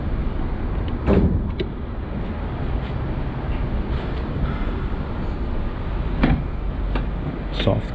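A BMW car door soft-closes. A faint motorized pull ends in a few muffled clunks over a steady background rumble.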